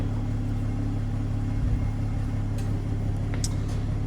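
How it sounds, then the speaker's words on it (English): A Toyota GR Supra idles with its exhaust valve held open, giving a steady, deep, even rumble close by with no revving and no voices. "You want to start your car, let the valve open, and then keep the car running."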